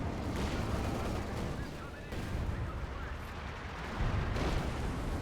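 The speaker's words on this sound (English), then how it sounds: "And we got an artillery strike called in." An artillery barrage strike in Company of Heroes 2 rumbles as a dense, continuous wash of distant booms and crackling impacts, with several heavier hits rising at moments.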